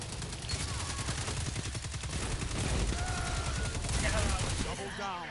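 Destiny 2 beta multiplayer match with rapid, continuous automatic gunfire in dense, rhythmic bursts close up. Overlapping weapon sounds layer in, with occasional voices beneath the shooting.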